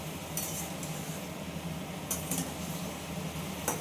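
Stirring vegetables in a cooking pot during the cooking of chichinga (snake gourd), with a few scattered light metallic clinks of a spoon against the pot over a steady low background hiss, no talking.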